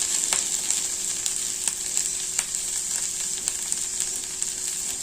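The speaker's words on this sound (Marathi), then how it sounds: "आधी भेंडीला छान शिजू द्यायचं।" Chopped okra (bhendi) sizzles and fries steadily in a pan, a constant hiss with occasional sharper crackles and light taps of stirring, close and without talking.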